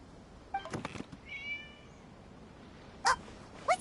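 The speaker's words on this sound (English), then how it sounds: "It was just a cat." A cat meowing in a video game, with a couple of soft mews early on, then two louder, sharper meows near the end, heard close against a quiet background.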